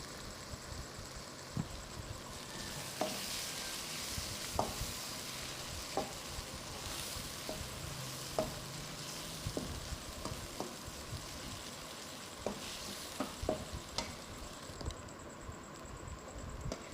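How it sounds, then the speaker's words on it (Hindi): Beef brain frying in a pan, a steady soft sizzle with faint bubbling and occasional small pops, quiet and continuous with no talk. "मगज़ तकरीबन फ्राई हो चुका है।"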